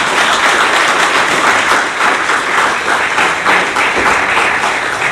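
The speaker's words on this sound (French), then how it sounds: "nous voulons vous applaudir et vous acclamer" A large crowd at a PCT senatorial campaign rally in Brazzaville applauds and cheers the candidates, with dense, steady clapping that stays loud and continuous throughout, with no talk over it.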